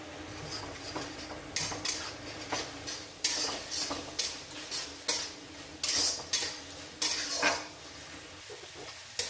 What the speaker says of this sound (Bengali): খুব ভালো করে মশলা কষিয়ে নিয়েছি